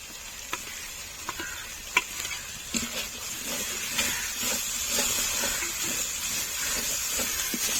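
A spice paste with turmeric is stir-fried in oil and sizzles with a steady hiss, broken by light taps and scrapes of a spoon on the pan.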